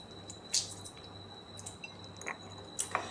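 A gondhoraj lemon is squeezed by hand into a bowl of sour yogurt, giving faint, brief squishy squelches and a few soft drips, with a steady high tone underneath.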